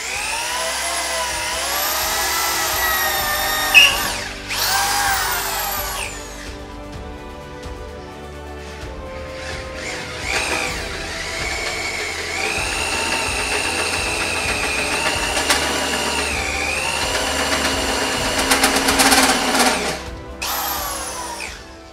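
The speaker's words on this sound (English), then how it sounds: "Got the 16mm hole drilled through the first side." A drill bores a 16mm hole through a steel part for an M625 tubing bender conversion, loud whining bursts rising and falling in pitch with pauses between passes and a metallic screech as the bit cuts.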